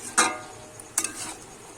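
Bottle gourd greens with prawns being stirred in a hot pan, two quick scraping strokes over a soft sizzle, close by.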